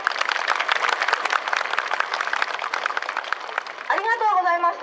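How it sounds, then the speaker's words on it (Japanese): Audience applause at a Japanese naval air base show in 2012, dense steady clapping from a crowd that carries on for several seconds before a voice starts speaking over its tail. "どうぞ温かい拍手をお願いいたします"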